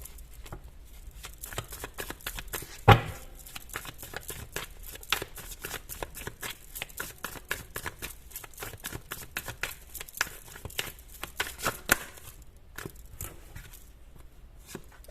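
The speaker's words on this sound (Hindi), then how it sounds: "ओके, मैं ये कार्ड्स ले रही हूँ।" A deck of tarot cards is shuffled by hand, a dense stream of rapid, close flicks and patters running for about twelve seconds before thinning out.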